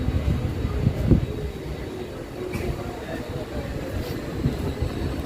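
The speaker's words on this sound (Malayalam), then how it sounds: "തിരുത്തുരായം പുണ്ടിയ റെയിൽവേ സ്റ്റേഷനിൽ നിന്ന് ട്രെയിൻ ഡിപ്പാർട്ട് ചെയ്തോട്ടാ." A train hauled by an ALCO diesel locomotive pulls out of Thiruthuraipoondi station on an unelectrified line, a steady low rumble and clatter of wagons rolling along without letup.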